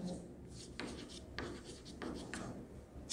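Close, quiet scratchy strokes of writing on paper or a board, several short bursts in an uneven rhythm over a low room hum, with no talking.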